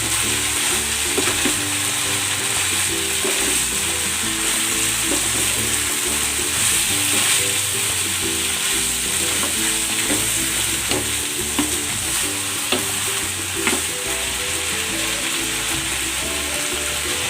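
Chayote and carrots sauté in a pan, giving a steady, close sizzle with frequent stirring and scraping from the utensil throughout, with no voices.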